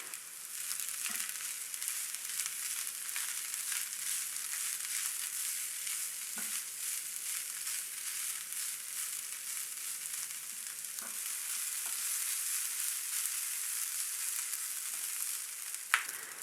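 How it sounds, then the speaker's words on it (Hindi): Boiled, shredded chicken and lightly browned onions fry in a pan with a steady, close sizzle throughout, broken by a few soft clinks of a stirring spoon. "इसको तकरीबन 2 मिनट भूनेंगे"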